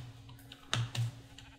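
Two short sheep bleats from the video game Minecraft, close and fairly loud, over a steady low in-game hum with faint clicks in the background.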